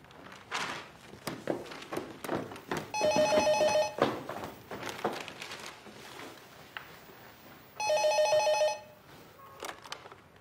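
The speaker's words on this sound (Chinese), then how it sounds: "电话" An indoor landline telephone rings in two separate bursts of the electronic bell, with footsteps and household movement in between and no talking.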